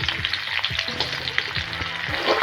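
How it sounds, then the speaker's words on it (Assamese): Onions hiss and crackle as they hit hot oil in a wok while an Assamese banana stem dish is cooked. A dense, continuous close-up sizzle carries faint stirring taps and no talk. "তেলটো গৰম হৈ গ'ল, পিঁয়াজকেইটা দি দিছোঁ।"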